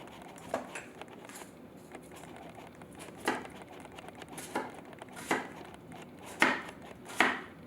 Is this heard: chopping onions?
yes